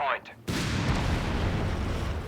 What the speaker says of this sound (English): Anti-tank half-track firing.